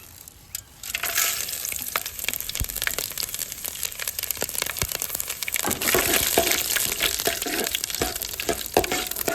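Whole spices such as cardamom and cinnamon fry and crackle in a pan for Thalassery dum biryani, a dense sizzle with spoon scrapes and knocks against the pan throughout.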